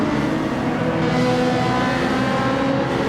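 A race car engine roars steadily at Yas Marina in the racing video game Gran Turismo 7, loud and close, with a sustained buzzing drone as the throttle is held.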